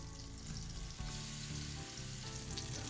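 Cardamom French toast fries over high heat in a pan, making a continuous close sizzle with faint crackle and a steady low hum underneath.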